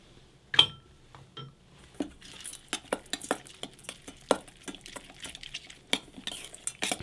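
A spoon stirs deviled egg filling of mayonnaise, chutney and bacon in a bowl, giving a run of close, uneven scraping and clinking strokes that speed up into a steady rhythm.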